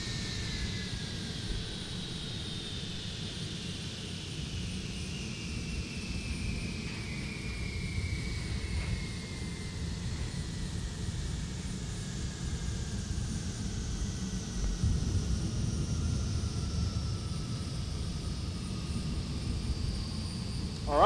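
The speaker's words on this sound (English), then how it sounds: "And let's turn off the engines." Boeing 757-330 jet engines spool down in a flight simulator after landing at Palma de Mallorca, a steady low rumble under a falling turbine whine that slowly fades over about twenty seconds, with no speech.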